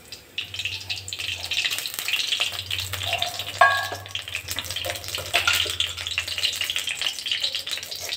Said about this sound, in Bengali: কড়াইয়ে তেল গরম হতে দিয়ে দিচ্ছি